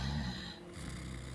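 A voice imitates the snoring of a sleeping halfling with a drawn-out, rumbling breath, a brief break, then another raspy snore, loud and close.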